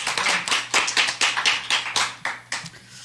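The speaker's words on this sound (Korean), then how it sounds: "우리 모두가 함께 영광의 박수를 하나님께 올려드립시다." A church congregation claps together during a worship service, a steady run of about a dozen sharp, even hand claps that are loud and close, with no voices over them.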